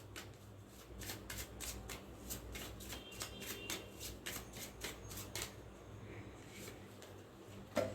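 Tarot cards shuffle in a run of rapid, crisp riffling flicks, one after another, close and fairly quiet, then a single card is drawn near the end.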